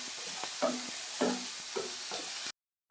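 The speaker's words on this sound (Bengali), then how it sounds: "হালকা করে চিকেনের সাথে একটু ভেজে নেব" Chicken fries with ginger and onion in a pan for a soup, giving a steady high sizzle. Several soft stirring scrapes sound close by, with no talk, before the sound cuts off abruptly.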